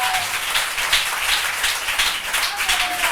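A congregation at a church service applauding together, a steady dense wash of many hands clapping for about three seconds, with some voices mixed in beneath it.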